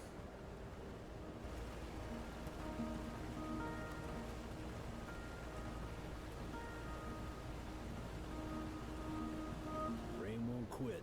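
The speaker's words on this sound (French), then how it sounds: "Ah, là il pleut." Steady rain patter with a soft broadband hiss in the video game Road 96, joined by sustained synthetic tones and music-like drones throughout, with a brief rising sweep near the end.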